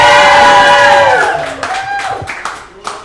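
A crowd celebrating a girls lacrosse state championship team lets out a loud burst of cheering and whooping that fades over a few seconds into scattered shouts and clapping, close by.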